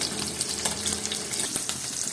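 Salted dried hilsa fish frying lightly in oil, a close, continuous crackling sizzle with scattered small pops, heard alone without talk.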